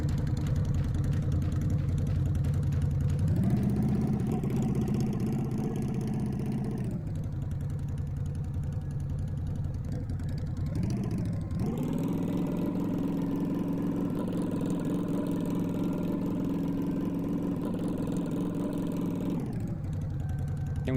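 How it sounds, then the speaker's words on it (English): Looping car engine sounds from a free game asset pack idle steadily, rising in pitch twice as if revved, then dropping back to a low, even hum, with no other sounds. "the engine sounds. They're from a free asset pack with sounds."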